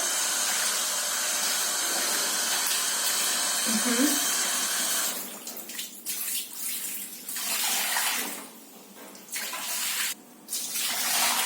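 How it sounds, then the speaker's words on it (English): Dill gets washed under a running tap, a loud steady rush of water for about five seconds, then broken splashing and trickling as the stream is interrupted and resumes. "First step is to wash the dill."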